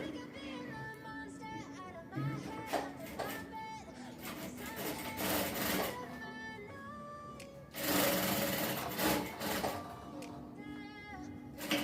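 A sewing machine runs up a half-inch seam on a jumpsuit shoulder with uneven stitching bursts, close and moderately loud, while background music with tonal notes plays throughout.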